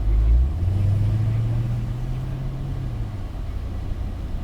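A Dodge Hellcat drives around a cone track, its engine a steady low rumble that holds after a brief louder surge at the start, then eases slightly, with no talk over it.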